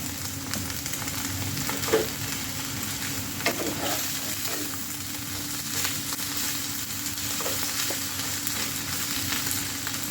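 Thai omelette with bitter melon frying and being stir-fried in a pan, a steady close sizzle with occasional scraping stirs running throughout, no voices.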